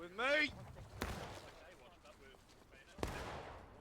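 Scattered gunshots in a Civil War battle video game on a Tennessee River campaign, two sharp cracks about two seconds apart among fainter shots, with someone talking over them.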